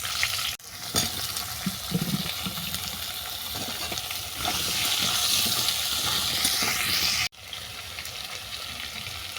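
Chopped note greens and mixed vegetables dropping into hot oil tempered with asafoetida, a broad steady sizzle and hiss that swells and holds near the pan, with brief clatter and a couple of sharp breaks.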